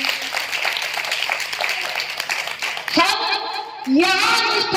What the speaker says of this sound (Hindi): इसकी सम्मान में जोरदार तालियां बजा दीजिए